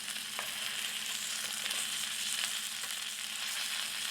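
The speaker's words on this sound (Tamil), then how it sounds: "சிக்கனை நம்ம 2 நிமிஷத்துக்கு ஒரு தடவை திருப்பி போட்டுகிட்டே இருக்கணும், இல்லைன்னா உள்ளே வேகாமல் சிக்கன் வெளியே தீஞ்சிரும்." Tandoori chicken, made without an oven, fries in a pan with a steady, dense sizzle throughout. A few faint stirring or turning clicks sit under the even crackle.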